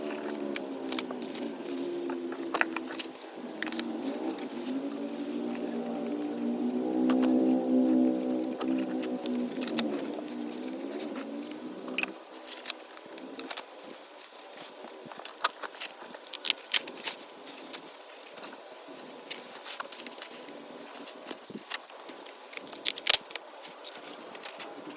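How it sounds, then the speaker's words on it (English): KINGGERI roof rack cross bar parts for a 2022-2026 Hyundai Tucson are unwrapped, producing close crinkling plastic and paper rustles, a low sustained rubbing in the first half, then sparse sharp crackles and taps, with no talking. "I'm going to let you see me unwrapping all this stuff"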